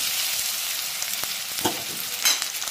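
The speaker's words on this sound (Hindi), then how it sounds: "देखिए, तेल गरम हो गया है, अब हम कॉर्न को हम डाल दे रहे हैं।" Corn frying in hot oil in a kadhai gives a steady, close, hissing sizzle throughout, with a few brief crackles and pops.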